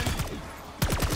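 Rapid automatic gunfire mowing down zombies in Call of Duty Black Ops 6, two dense bursts of close, loud shots separated by a brief lull.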